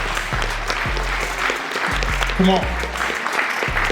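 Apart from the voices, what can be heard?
audience applause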